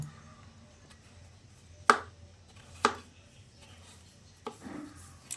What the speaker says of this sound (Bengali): এবার এই লাউটাকে ছোট ছোট করে টুকরো করে নেব।